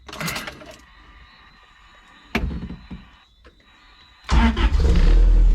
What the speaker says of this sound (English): So now I am going to fire it up, cold start, double check timing